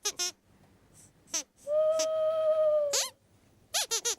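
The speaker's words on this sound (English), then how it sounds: "That's just an owl, Sweep." An owl gives a single long, steady hoot at night at a campsite, heard alone between short squeaky chirping calls before and after.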